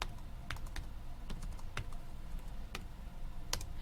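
Rapid clicks of a calculator keypad as a math expression with parentheses is entered, a quick irregular run of light taps close by.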